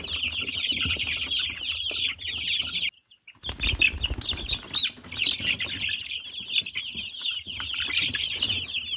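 Chickens in a coop cluck and chatter continuously in a busy, close chorus, broken by a brief pause and some scuffling, with no speech.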